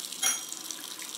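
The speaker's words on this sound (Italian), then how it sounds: "andiamo a bagnare, aspettiamo un pochino di acqua calda perché dobbiamo ammorbidire molto bene il pelo" A tap runs briefly to wet a shaving brush, a short close splash of water that starts abruptly and trails off into a soft hiss.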